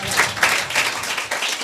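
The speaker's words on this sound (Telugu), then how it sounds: "అబ్బా చప్పట్లు కొడదామండి." A church congregation at a Sunday service claps together in a short burst, a dense, loud patter of many hands swelling in waves, with no talking over it.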